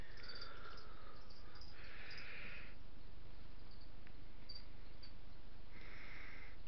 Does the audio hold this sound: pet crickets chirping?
yes